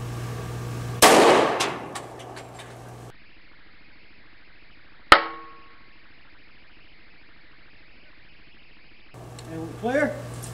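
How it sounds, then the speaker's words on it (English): Gunshots from a .40 caliber pistol firing flat nose full metal jacket rounds at a door, heard as a sharp loud crack with ringing echo, with talking before and after. "Now for both shots on the 40 cal"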